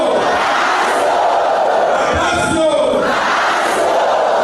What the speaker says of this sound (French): Ces cris de joie et autres acclamations proviennent du plus profond du cœur des fidèles chrétiens